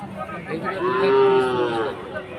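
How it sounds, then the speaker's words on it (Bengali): A single long, low moo from a male water buffalo, close by, rising and fading over about two seconds against background noise. "এগুলো সব সার মহিষ"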